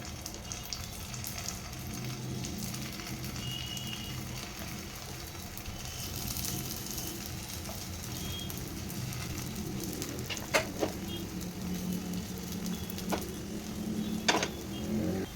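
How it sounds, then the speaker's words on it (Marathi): Soybean kebabs frying in a little hot oil in a pan, a soft, steady sizzle that stays quiet and even, with a few sharp clicks of the kebabs being set down. "इथे तेल आहे ते गरम झालेलं आहे, आता त्यामध्ये हे बनवून घेतलेले कबाब आहे ते एक एक करून टाकून घेते"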